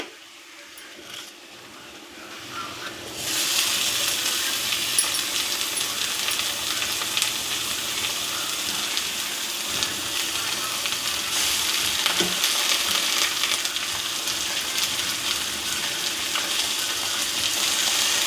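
Tomatoes drop into a pan of golden fried onions, setting off a sudden loud, steady sizzle that continues unbroken for the rest of the stretch, with faint stirring scrapes underneath.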